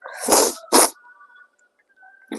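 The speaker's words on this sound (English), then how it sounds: "sorry, sniffling now" Two sharp, wet nasal sniffs in quick succession, close by, followed by quiet breathing and another sniff at the end.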